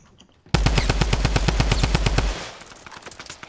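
A rapid automatic burst of gunfire in a video game, about two seconds of loud, evenly spaced shots that cut off abruptly, then a quieter background.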